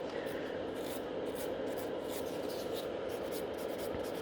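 A file rubs steadily under the edge of gel salon nails, a soft, continuous, close rasping scratch with rapid back-and-forth strokes and no talk.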